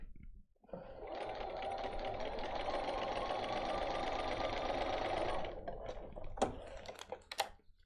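Domestic sewing machine at a short stitch length sewing across a quilt border, a steady fast mechanical whirring for about five seconds, close and clear, followed by a few clicks and handling knocks.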